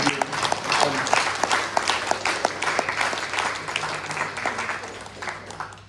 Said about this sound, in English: I want you all to give an applause to the Rukmani and Vittala.